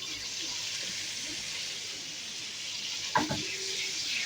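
Butter or ghee with a few drops of oil heats in a frying pan on the stove, giving a steady, even sizzle throughout, with a brief clatter of the pan or utensil near the end.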